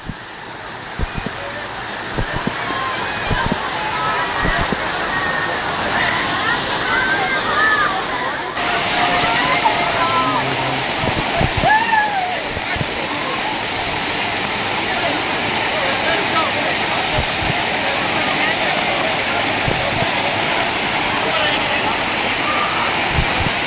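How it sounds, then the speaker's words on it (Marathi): A monsoon waterfall at Nathkhola near Karla in the Sahyadri hills roars in a loud, unbroken rush close by, while people talk excitedly over the falling water. "तर मंडळी एक नंबर वॉटरफॉल आहे, नाथखोळा"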